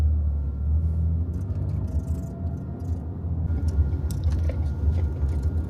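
A driverless robotaxi car driving through traffic in China, heard as a steady low road rumble with passing-vehicle noise throughout, fairly loud and continuous, with no talking.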